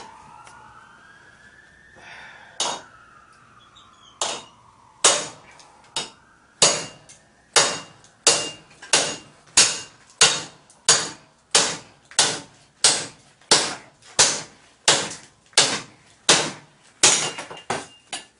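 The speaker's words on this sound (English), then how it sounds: "Done more damage on the spine where we're hammering it than we have the edge." Sharp metallic hammer blows strike the spine of a Cold Steel Kukri machete again and again in a steady rhythm, loud and close, with a siren wailing faintly in the background at first.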